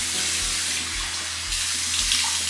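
Water runs steadily from a bathroom sink tap during a face rinse after cleansing, a continuous close splashing rush with no talking.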